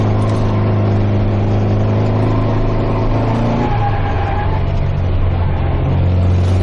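A Volkswagen Beetle's carbureted engine revs loudly and steadily up close, then the pitch drops partway through as it settles into a fuller, even rumble before rising again near the end.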